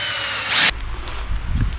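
A power drill bores bolt holes in a brief, loud, harsh burst lasting under a second, then stops, leaving low rumbling handling noise nearby.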